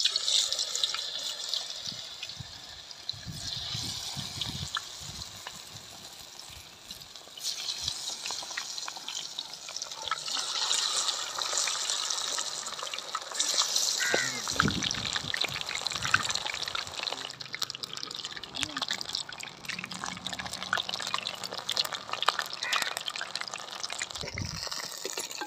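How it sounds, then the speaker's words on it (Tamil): White rat meat, cooked as rat 65, fries in hot oil with a soft, steady crackle and sizzle that swells and fades a little throughout, fairly quiet and without voices. "நம்ம வெள்ளெலி கறியை அப்படியே எண்ணெயில் போட்டு பொறிக்கிறோம்."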